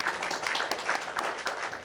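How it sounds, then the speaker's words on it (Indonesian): A small group claps briefly, a soft patter of applause that sounds a little distant and thin. "Oke, tepuk tangannya sekali untuk Bu Sulis."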